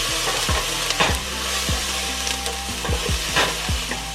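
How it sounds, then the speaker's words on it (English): Finely chopped garlic sautés with onions and vegetables in a pan for smoked stuffed peppers, giving a loud continuous sizzle broken by repeated spatula scrapes and knocks every half second or so; nobody speaks. "We're gonna come back with about 3 medium cloves of finely chopped garlic."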